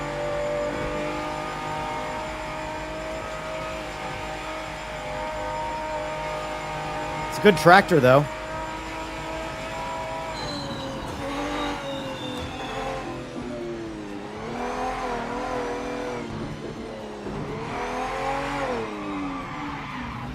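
A race car engine in the racing game Project Motor Racing drones and revs steadily with shifting pitch and a brief tire squeal, while someone talks over it.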